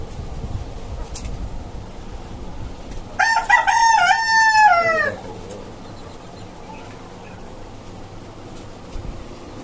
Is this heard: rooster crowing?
yes